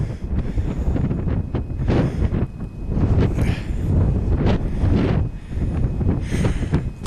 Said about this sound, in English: There's just a bit of wind on today